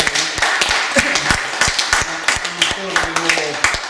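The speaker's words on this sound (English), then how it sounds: "I think we're going to give you a round of applause for a beautiful talk" Dense, steady clapping from a lecture audience fills the whole stretch, with individual sharp claps standing out and some voices mixed in.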